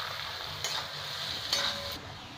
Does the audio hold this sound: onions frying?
yes